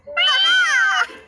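A cat in the puzzle game Brain Test 4 gives one clear, drawn-out meow with a rising and falling pitch, close and loud, heard alone.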